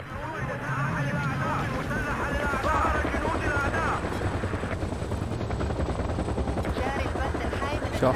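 A helicopter's steady rotor drone in a Battlefield-style shooter on the Zatar Wetlands map, mixed with bursts of gunfire and a player talking over the loud, constant din.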